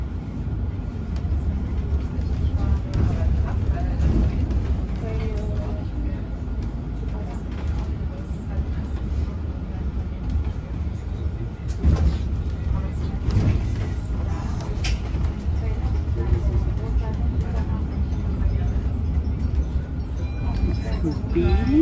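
The free shuttle bus at Frankfurt Airport drives along with a steady engine and road rumble, and a recorded announcement voice plays over it inside the cabin.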